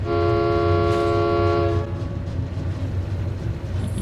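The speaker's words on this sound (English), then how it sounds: "you won't find anything of value except for some levers that make dope train whistles." Dwarven train whistles set off by levers aboard a train in Skyrim, one loud sustained horn-like blast that cuts off sharply after about two seconds, followed by a low rumbling rail-like background.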